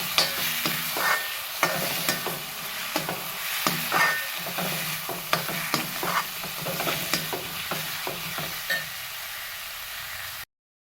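Egg mixture stirred in a hot pan, rhythmic spatula scrapes and taps repeating over a continuous sizzle, close-up with no voices, ending abruptly.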